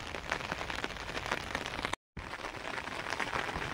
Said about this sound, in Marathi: कसला जोराम पाऊस आलेला आहे,